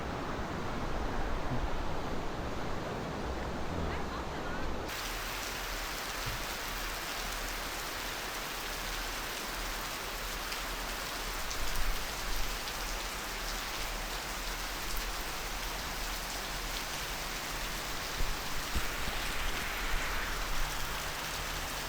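Steady heavy rain falling in a Thai jungle during the rainy season, a dense continuous hiss of drops on foliage and surfaces with no voices, slightly shifting in tone early on.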